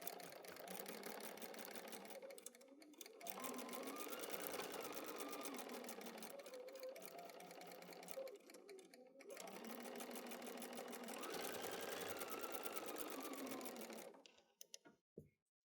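A sewing machine stitches a quilt block in quick, even bursts, running steadily for a few seconds, pausing briefly, then running again before stopping near the end; faint and close, with no talk.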